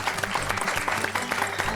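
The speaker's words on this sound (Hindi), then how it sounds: "उनके लिए जोरदार तालियां" A studio audience on a television game show claps loudly to welcome a mother-in-law contestant, a short burst of thick, even applause with a low musical drone running underneath.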